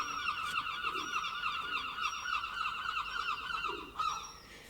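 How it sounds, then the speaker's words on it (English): Herring gulls calling nearby, several harsh repeated cries in short bursts, fairly faint against quiet outdoor ambience. "Seagulls. Sorry, herring gulls."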